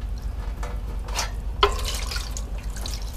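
Tap water poured into a camping grill tray at a campsite, a light splashing and trickling that swells after a brief pause and keeps running steadily, fairly close.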